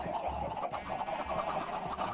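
Chickens on an automated farm in the Minecraft video game give soft, repeated clucks over a steady background, fairly quiet and with no talk.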